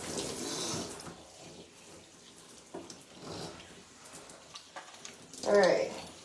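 Water runs from a tap while conditioner is rinsed out of wavy hair, a faint, steady splashing stream with soft bursts and a few louder gushes near the end.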